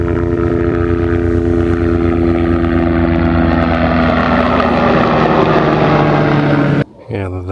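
A fighter jet flying overhead above a winter campsite at Fort Pickens, Gulf Islands National Seashore, a loud, steady engine roar sustained for several seconds before cutting off abruptly near the end.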